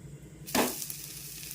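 A high-fibre dosa made from a lentil batter of toor, moong and urad dal and chana sizzles briefly on a hot pan as it is flipped, giving one sharp, close hiss that fades into a soft, steady crackle.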